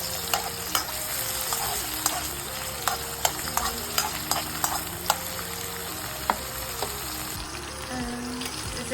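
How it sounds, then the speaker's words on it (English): Saputi red chilies fry in a hot pan with a steady, close sizzle, broken by scattered stirring clicks and scrapes, with no talking throughout. "I'm just gonna fry these a little bit before I start cooking."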